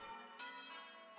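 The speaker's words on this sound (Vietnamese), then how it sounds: "Đài BBC đã có buổi trò chuyện với một nhóm người rung chuông có kinh nghiệm khi họ đang tập luyện ở thành phố Ipswich" Church bells rung by a practising team of bell ringers in Ipswich, south-east England, give a faint, sustained metallic ring that swells once and then fades.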